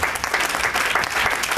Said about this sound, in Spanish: Y denle un aplauso al Señor,